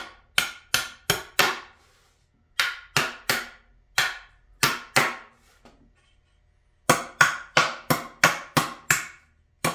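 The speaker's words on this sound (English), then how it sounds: "pop them out right away. Give them a couple whacks." A hammer whacks nails out of wooden pallet boards, sharp ringing blows in quick clusters of three to six with brief pauses between sets, close and distinct with no talking.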